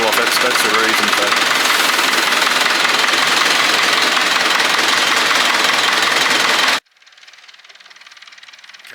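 A Massey Ferguson 165 tractor engine runs loudly with a steady knocking diesel idle for about seven seconds, then cuts off abruptly, leaving only faint background noise.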